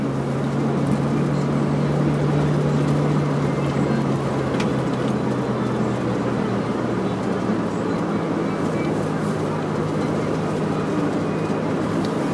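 A car with four-wheel drive engaged climbs a snowy mountain road after overnight snowfall, its engine giving a steady, continuous low hum and drone close by, with road and tyre noise and no voices.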